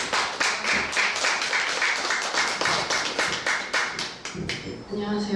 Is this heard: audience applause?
yes